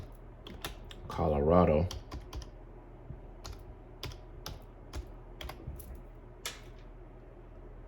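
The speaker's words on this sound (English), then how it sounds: "Let's type this in." Typing on a computer keyboard, scattered crisp key clicks spread through the clip, with a short spoken word partway through.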